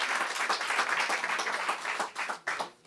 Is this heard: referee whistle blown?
no